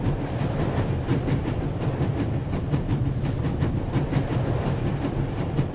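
Moving train in The Raven: Legacy of a Master Thief video game, heard as a steady rumbling roll with rhythmic clickety-clack of wheels over rail joints, continuous and fairly close, without talk.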